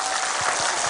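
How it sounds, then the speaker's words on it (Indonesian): An audience at a religious sermon bursts into brief, dense applause, a loud wash of clapping that fills the moment. "Tepuk tangan toh."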